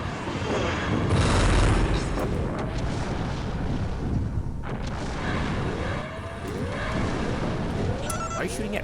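An enemy mech fires weapons in the Earthsiege 2 video game, with repeated booming blasts and sweeping laser-like whines across the scene, while someone talks over the gunfire.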